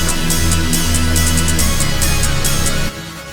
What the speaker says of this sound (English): We made some cymbals for the drop as well.